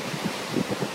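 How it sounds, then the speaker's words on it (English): Steady wind blowing across an exposed island shoreline ahead of Hurricane Sandy, a continuous broadband rush buffeting the microphone with a few soft gusty swells, no voices. "Wind is noticeable."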